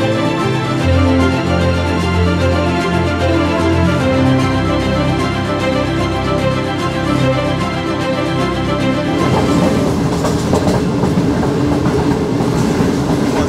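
A passenger train in Pakistan rolls along, heard through an open carriage door: loud rumbling wheels with rhythmic clickety-clack and steady rail noise, shifting to a rougher roar near the end.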